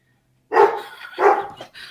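A dog barks twice, loud and close, in two sharp separate woofs about half a second apart in an otherwise quiet room.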